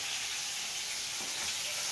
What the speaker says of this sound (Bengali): প্রতিমা মাছ ভাজছে